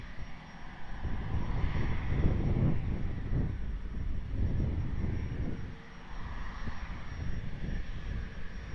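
A jet airliner lands on runway 20 at Lisbon Airport, its engines giving a steady, rumbling roar at middle distance that swells and fades gently throughout.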